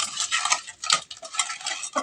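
Fish pieces being mixed by hand or spoon with a tablespoon of salt, giving soft, wet squelching and scraping strokes in an irregular rhythm, close and fairly quiet, with no talking.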